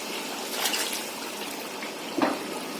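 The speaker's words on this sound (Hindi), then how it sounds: "तकरीबन 2 कप के करीब मैं इसमें पानी ऐड करूंगी।" About two cups of water pour into a pot of chicken pulao, a steady close gushing splash throughout, with a brief sharper slosh near the end and no voices.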